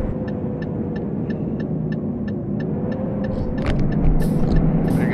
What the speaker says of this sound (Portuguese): Chamada no freio motor aqui.